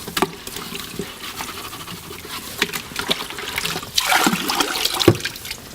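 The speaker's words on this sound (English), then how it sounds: "And then rinse your bucket in the sink." Running water splashes and gurgles into a sink as a clay bucket is rinsed in a ceramics studio, the flow swelling louder toward the end with clattering handling noises.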